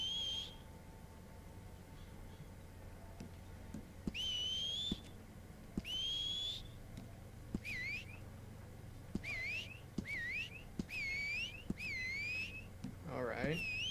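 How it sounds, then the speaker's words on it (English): A character in the Western video game Red Dead Online whistles repeatedly, about eight short two-tone rising whistles spaced across the clip over a steady low game ambience, with no talking. "because I didn't even press A to whistle"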